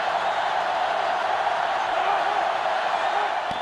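A stadium crowd in NCAA Football 2005 during a Michigan versus Ohio State game roars as a steady, broad wash of noise, loud and constant, with faint whistles and whoops rising out of it.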